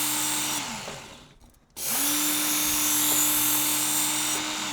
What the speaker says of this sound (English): you also don't want to leave the motor running when you're sharpening